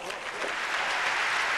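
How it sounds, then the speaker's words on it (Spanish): A Chilean crowd claps through a short burst of steady, dense applause during a table tennis final at the Chile Open, the noise filling the space evenly with a voice talking underneath. "El público chileno lo demuestra con su aplauso, lo grato que está haciendo el partido."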